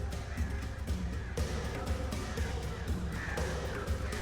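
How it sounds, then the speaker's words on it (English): A flock of crows in the video game Alan Wake Remastered caws in dense, overlapping calls over a constant rumbling background bed. They sound fairly loud and fill the scene. "Oh god, there's so many fucking birds."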